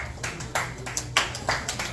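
A small audience at a singing-contest event claps in a loose, roughly even rhythm, with several distinct sharp claps standing out against quiet room noise.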